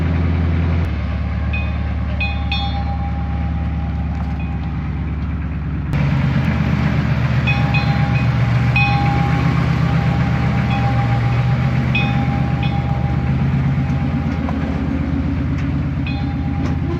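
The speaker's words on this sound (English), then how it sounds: "This is some very rough terrain for a choo-choo train." An off-road 4x4 train rumbles steadily along the rails over rough terrain with a continuous low roar and rattling clatter, close by, with no talking.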